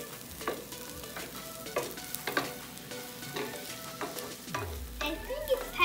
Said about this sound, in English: the sizzle whistle. Sizzle.